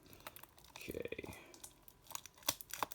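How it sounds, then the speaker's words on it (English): Plastic packaging on a Metroid Dread Special Edition box for Nintendo Switch crinkles and crackles in short bursts while being cut open with scissors, close to the microphone, with a brief voice in the background. "the plastic's making a lot of sound"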